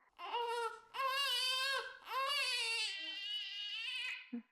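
Infant crying in long, wailing bursts with strong harmonic tone, three sustained cries rising and falling before a brief pause, loud and close with no talking over it.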